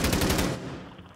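Rapid automatic gunfire from a video game, a loud, fast rattling burst of shots lasting about half a second, then fading into a short ringing tail.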